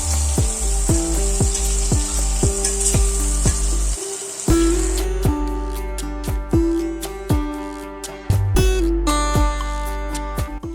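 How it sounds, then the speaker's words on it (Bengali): Potato pieces dropped into hot oil that was just used for cauliflower, a loud close sizzle punctuated by repeated clinks and stirring knocks, with one brief lull. "ওই তেলেই ছেড়ে দিচ্ছি আলুটাকেও হালকা ভেজে নেব।"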